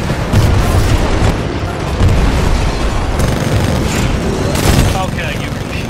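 Heavy weapons fire and booming explosions during a Titanfall 2 campaign battle, loud and dense throughout, with voices talking over the rumbling blasts.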